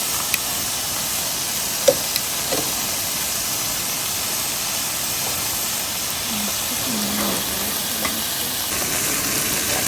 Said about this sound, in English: We're gonna mix the beef in, get that cooked, get the veggie, add a little seasoning, teriyaki sauce